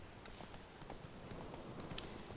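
Horse hooves clip-clopping at a steady galloping rhythm in The Witcher 3, soft and fairly distant beneath a constant game background wash.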